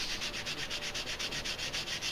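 Rhythmic hand sanding of a wooden CO2 dragster body, even strokes of gritty rasping repeating about every quarter second, close up and alone.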